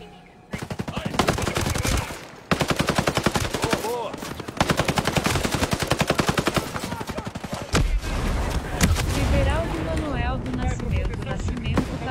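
Rapid automatic gunfire from the video game Tom Clancy's Ghost Recon Breakpoint, loud dense bursts with brief pauses, while players talk over the shooting.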